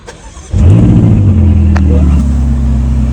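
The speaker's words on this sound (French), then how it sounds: "Toujours ce petit démarrage sympathique." A Ferrari California T starts up with a sharp crank and loud catch, then settles into a deep, steady rumbling idle close by, with a slight rise in pitch near the end.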